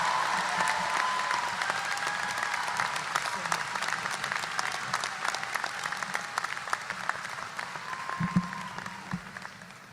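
Sustained audience applause at a university undergraduate commencement ceremony, a broad, steady crowd clapping with some cheering, slowly tapering toward the end, with brief voices audible near the close.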